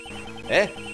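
A cell phone rings once in the video game Ace Attorney Investigations 2, a brief warbling electronic tone over a low background hum.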